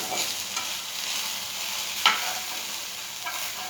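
Food frying in oil in a pan, a soft, steady sizzle with one sharp scrape of a utensil partway through and faint stirring clicks, heard alone without talk.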